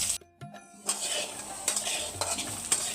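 Thick-cut potato pieces fry in hot oil in a kadai, a soft sizzle broken by a few scraping stirs and light metallic clinks of a utensil against the pan.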